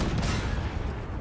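A tank cannon fires in the video game Armored Warfare, one loud booming blast whose rumble rolls on and slowly fades, close and dominant with no talk.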